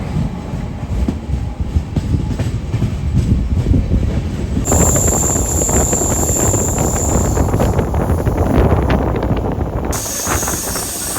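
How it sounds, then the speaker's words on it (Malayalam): A train runs past on the parallel down line in Telangana, heard from aboard another moving train as a loud, steady rolling rumble with rail clatter, wheel squeal and wind noise throughout. "നമ്മൾ പോകുന്നതിൻ്റെ പാരലായിട്ടുള്ള ഡൗൺ ലൈനിൽ കൂടെ ഒരു ട്രെയിൻ പോകുന്ന കാഴ്ച നിങ്ങളിപ്പോൾ കാണുന്നുണ്ടാവും"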